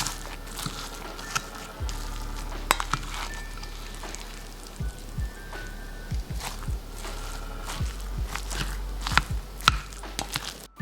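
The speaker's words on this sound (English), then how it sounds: "Open the lid and mix them all together." Hot rice mixed with shredded ginger in a lidded pot for a Japanese breakfast, heard as soft scattered scrapes and clicks of a utensil with low thumps, close and fairly quiet, no voices.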